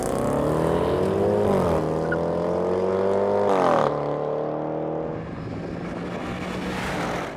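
A Porsche racing against a Range Rover, with a loud, sustained engine roar that climbs in pitch through gear changes and stays close and dominant throughout, no talk.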